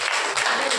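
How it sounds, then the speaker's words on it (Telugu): Congregation clapping at a Saturday church prayer meeting, a short, steady burst of many hands applauding together, fairly loud and close. "చప్పట్లు ఒకసారి."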